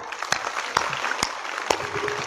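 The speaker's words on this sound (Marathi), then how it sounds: "टाळ्या वाजवा" A crowd at a Marathi kirtan by Satyapal Maharaj applauds with a dense, steady patter of many hands, with occasional louder claps over a continuous hall ambience.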